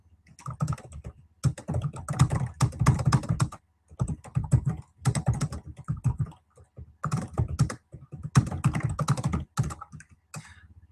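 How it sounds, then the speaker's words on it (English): Typing on a computer keyboard comes in quick bursts of clattering keystrokes, separated by short silent pauses, close and clear with no talking. "I'm going to type this in for him"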